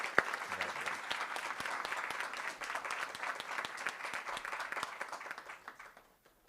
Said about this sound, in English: Big round of applause, Mr. Gene Vanderford.